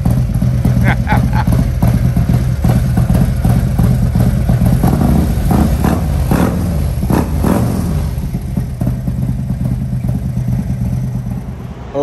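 A Harley-Davidson motorcycle engine runs after a fuel filter change, a loud, close, continuous idle with short throttle blips, while someone talks over it.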